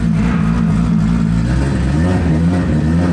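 Modified Bayside blue Nissan Skyline R34 GT-R with a bigger single turbo, larger plenum, front-mount intercooler and cams, revving hard and very loud, a close, continuous growling engine note throughout.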